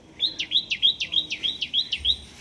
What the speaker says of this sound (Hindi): चिड़िया देख लो कितनी ची ची ची